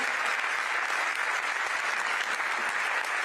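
Steady, sustained applause from a large convention audience at a Republican National Committee gathering fills the whole stretch at an even, full level with no voices over it.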